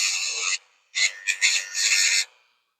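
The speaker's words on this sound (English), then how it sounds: "Give it a little filing just to make sure that everything is nice." A small metal part for a Seiko watch mod being hand-filed, a few close, rasping strokes in quick bursts with brief gaps between them, no voices.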